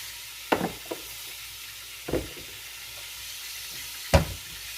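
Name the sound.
deer neck meat searing and sizzling in a pan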